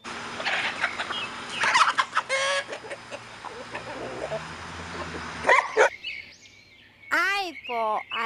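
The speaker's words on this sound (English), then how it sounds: "H for hen." Hen clucking and squawking in a children's alphabet phonics song, bright calls over background music and voices, with a run of sharp, rising clucks near the end.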